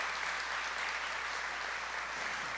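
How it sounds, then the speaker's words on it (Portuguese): Audience applause at a Portuguese-language youth church gathering, a steady dense wash of clapping held at even level for the whole stretch, with no voices over it. "Vamos aplaudir isso?"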